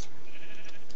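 Sheep bleating in a video game during a let's-play session, a single short synthetic bleat filling about a second, fairly loud and close with no talk over it.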